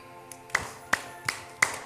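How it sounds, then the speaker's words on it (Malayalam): An audience doing a soft 'baby clap' at a children's program: four separate light claps, evenly spaced and fairly faint, over a quiet room. "കൊച്ചുകുട്ടികൾ കൈയടിക്കാൻ പറഞ്ഞാൽ ഇങ്ങനെ കൈയടിക്കും അല്ലേ, നിഷ്കളങ്കമായിട്ട് കൈയടിക്കും"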